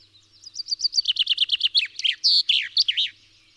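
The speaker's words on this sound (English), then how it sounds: "this bird is actually a chaffinch." Chaffinch song: a fast descending series of bright chirps accelerating into a terminal flourish, close and clear over a quiet background, with no talk.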